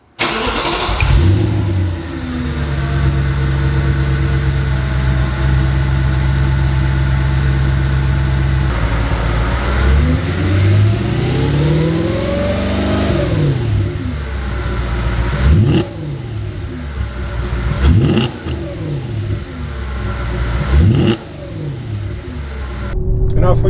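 An Audi S4 fitted with a Fast Intentions exhaust rumbles at a low steady idle, then pulls away with rising revs and repeated swelling engine sweeps, loud and close, through several gear changes.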